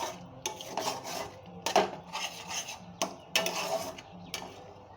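A utensil stirs and scrapes cashews, grated coconut and spices around a metal wok with repeated rough rubbing strokes and occasional sharper knocks against the pan, heard up close.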